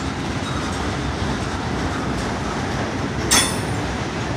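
An FEC railway train stopping, with a steady loud rolling rumble of cars on the rails and a brief high wheel squeal near the end, heard close with no talk.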